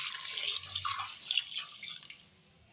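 Water pours into a pot while goat leg soup is being cooked, a steady, faint splashing stream that trails off toward the end, with no one talking.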